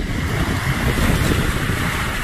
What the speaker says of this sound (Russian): Сильные, не сильные волны.